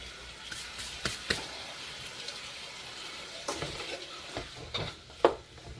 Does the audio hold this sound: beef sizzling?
yes